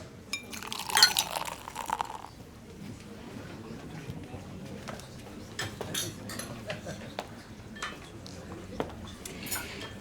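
Champagne glasses clink in a toast, a bright cluster of chimes near the start. Scattered lighter taps of glass and cutlery follow under quiet murmuring voices.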